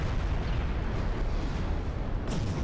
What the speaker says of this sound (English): Ooh, a flash fire.